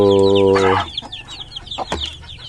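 Chickens and week-old newly hatched chicks: a loud cluck opens, then high peeping chirps from the chicks continue with scattered softer clucks close by.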